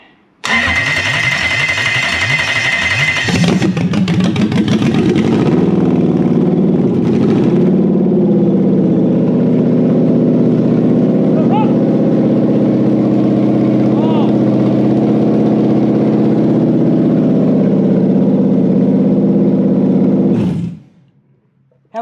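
Toyota 3UZ V8 engine on its stock ECU cranking and catching, then idling steadily and loudly close by for about fifteen seconds before shutting off abruptly.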